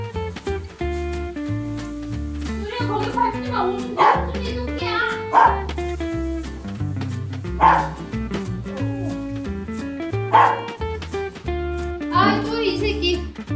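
A dog barking indoors, several sharp barks and yips spaced irregularly and mixed with whimpers, heard under overlapping talk and a voice.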